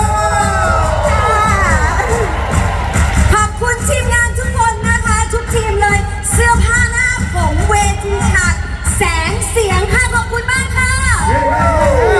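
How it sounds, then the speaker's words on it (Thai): A large crowd at the close of a 2023 Thai concert cheers, whoops and yells loudly and continuously, with applause blended in and an amplified voice talking over the din. "เสียงปรบมือดังๆหน่อย"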